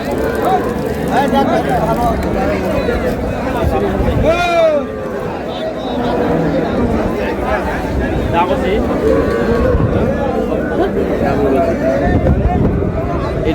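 Cows and calves mooing at a busy cattle market in Ambari, Dinajpur, with repeated loud moos rising over constant crowd chatter and bargaining voices.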